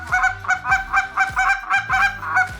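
Goose call blown in a steady calling cadence, about nine honking notes evenly spaced over a few seconds, loud and close with no voices.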